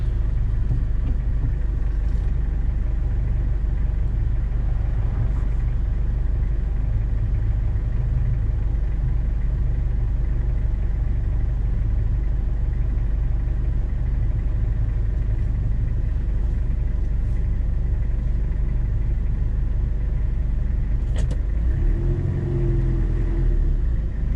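A 1994 Toyota Hiace diesel 4WD fire truck on a test drive, its engine a steady low rumble throughout from inside the cab, with a brief shift in tone near the end.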